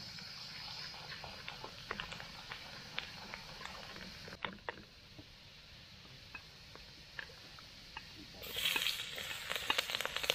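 Garlic fries in butter in a pan, a faint steady sizzle crackling with small pops and occasional stirring scrapes, growing briefly louder near the end.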